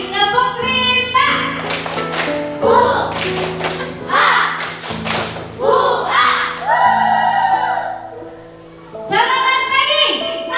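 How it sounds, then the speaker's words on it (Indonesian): Children clap out the rhythmic tepuk rimba chant in a classroom, bursts of sharp group claps and shouted chanting with sustained melodic voices, loud and close, repeated across several phrases. "sekali lagi tepuk rimba"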